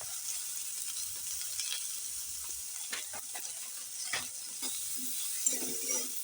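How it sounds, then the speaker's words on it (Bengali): Neem leaves and eggplant frying in a pan over medium heat, a soft steady sizzle with occasional stirring scrapes and light clicks, close by and moderately quiet, with no talking. "এই নিম বেগুন দেখো খুব দেখো আঁচ মিডিয়ামে রেখে কিন্তু খুব সুন্দর করে ভেজে নিতে হবে"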